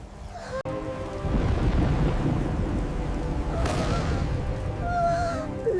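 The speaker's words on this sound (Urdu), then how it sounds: "اچانک باغ میں تیز طوفان آ گیا اور سب دوست خوف زدہ ہو گئے۔" A cartoon thunderstorm effect over a garden: a sharp crack of thunder opens into a loud, steady rush of heavy rain, with a further rumble and a bright crash midway, the downpour continuing to the end.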